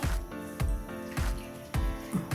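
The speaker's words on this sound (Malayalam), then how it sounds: "കുറച്ച് വെള്ളം ഒഴിക്കാം." Water splashes into a pot of aviyal vegetables on a gas stove, a Kerala sadhya dish, arriving as four or five distinct close pours with a slight tonal ring and short gaps between them.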